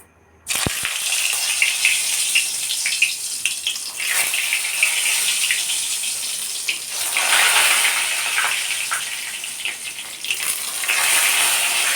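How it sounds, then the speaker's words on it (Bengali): Pointed gourds (potol) dropped into hot mustard oil, giving a loud, steady broadband frying hiss that starts abruptly and continues with fluctuating crackle throughout. "এবার আমি পটলগুলোকে ফ্রাই করে নেবো"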